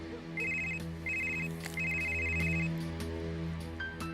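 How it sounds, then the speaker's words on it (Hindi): A telephone rings in three short trilling bursts, fairly quiet, over a steady low hum in the room. "तेरा फोन आया।"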